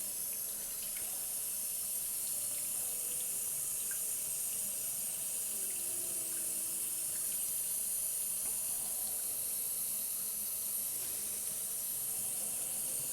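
Rinse water at 68 degrees runs steadily from a tap during film developing, a continuous close hiss with no talking.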